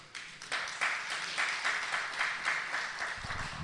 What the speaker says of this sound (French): Est-ce qu'on peut applaudir pour le Seigneur?